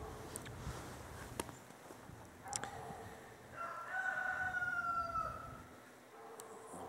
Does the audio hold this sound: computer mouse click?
no